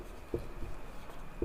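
A pen writing numbers by hand on paper, a few short scratchy strokes and taps close by, quiet and without speech.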